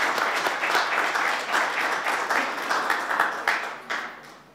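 Applause for Kevin at a West Virginia governor's broadband announcement: a modest crowd's steady clapping, fairly even and close, tapering off with a few last claps at the end.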